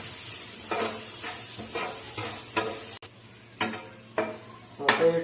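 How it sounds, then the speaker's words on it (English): Chicken mixture sautéing in a pan, a steady sizzle broken by repeated scraping stirs at an even rhythm, close and moderately loud, with no voices. "Saute it for 10 to 15 minutes, then put the mixture."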